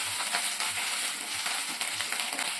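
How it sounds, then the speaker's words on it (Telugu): Ajwain (vamaku) leaves frying in hot oil with a pinch of turmeric for pachadi, giving a steady close sizzle with faint stirring scrapes throughout. "ఈ వామాకు వేసిన తర్వాత ఇలా ఫ్రై చేసుకోవాలండి ఆయిల్లో"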